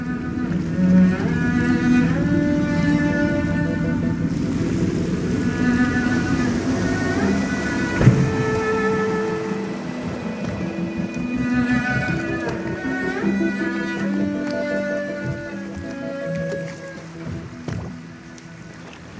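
A boat steered across the water in the stealth game Dishonored gives a steady, continuous churning rumble that holds for the whole stretch, with a sustained tonal score layered over it.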